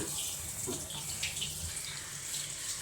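Tamarind water poured into a pot of cooking aviyal vegetables, a faint, steady watery pouring and splashing sound running through with no voices.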